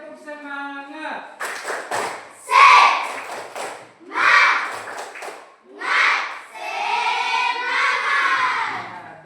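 Classroom of children doing a rhythmic spirit clap, several bursts of patterned clapping and thumps alongside shouted chanting voices, close and lively.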